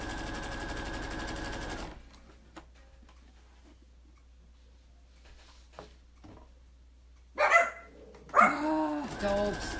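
A few dogs bark in short sharp bursts near the end, loud and close, after a sewing machine runs steadily for a couple of seconds and then stops, leaving a quiet room.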